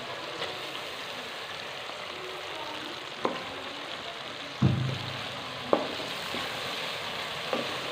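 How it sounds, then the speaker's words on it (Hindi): Tomatoes fry in browned ginger-garlic paste for a potato and pea curry, giving a steady soft sizzle with occasional stirring clinks and a brief louder hiss as food hits the hot pan. "अदरक और लहसुन का पेस्ट अच्छे से ब्राउन हो गया है, और इसमें शामिल करूँगा मैं टमाटर।"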